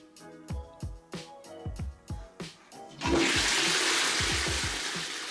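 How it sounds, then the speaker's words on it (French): Flush of a wall-hung Japanese toilet on a Geberit support frame. A series of thuds and clunks comes first, then a loud, sustained rush of water that runs to the end, close by with no voices. "Allez, on coupe l'eau, on va tirer la chasse."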